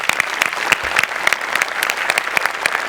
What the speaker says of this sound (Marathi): तुझ्याकरता एकदा खरोखर मनापासून टाळ्या